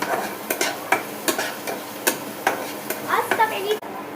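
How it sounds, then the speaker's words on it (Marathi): Onion and tomatoes fry in a pan, stirred with repeated sharp scrapes and clinks of a spoon against the pan in an irregular rhythm over a soft sizzle, with a voice briefly audible near the end. "टोमॅटो, आणि टोमॅटो सुद्धा आपण चांगलं फ्राय करून घेणार आहोत."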